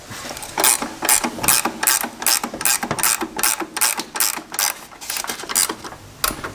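Ratchet spanner clicking in quick repeated bursts while tightening rear suspension bolts on a Toyota Prado, close and loud with a steady stop-start rhythm of ratcheting strokes.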